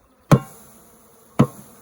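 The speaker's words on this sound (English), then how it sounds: "I think I'll give them a nice little tap first" Two sharp taps strike a package can of bees, about a second apart, each ringing briefly before fading over a faint background.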